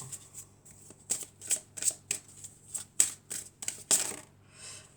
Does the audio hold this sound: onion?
no